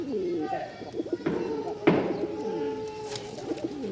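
A pair of pigeons coos in soft, throaty calls, close by, repeating several times under someone talking.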